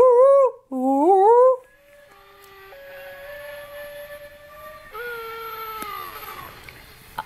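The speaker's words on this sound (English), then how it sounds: "Are you the whale that's the friend of Fuchsia" A whale call in a children's sea-pup story read-aloud: loud, swooping tonal moans in two rising bursts, followed by longer, quieter sustained tones and a final falling wail, with no talking.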